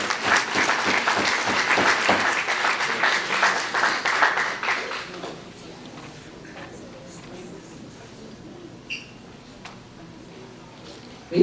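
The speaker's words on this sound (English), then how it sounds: "Put your hands together for Cecil Peters" Audience applause for Cecil Peters at Luther Brown's retirement celebration: dense, fairly loud clapping from a room full of people for about five seconds, then fading into quiet room murmur with a few stray sounds.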